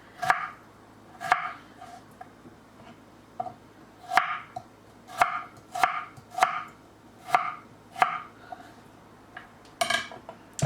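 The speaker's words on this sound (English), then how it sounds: "You can cut the radish and your green onion into whatever shape or size you want" A knife chops radish and green onion on a cutting board in sharp, separate strokes, each a crisp knock with a short scrape, irregularly spaced and fairly close.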